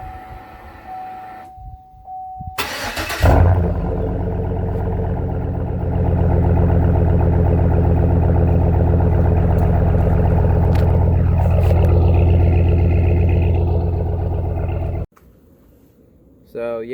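A car engine with a new aftermarket exhaust starts with a sharp burst, then holds a deep, loud, growling rumble that rises slightly and stays steady for over ten seconds before shutting off abruptly.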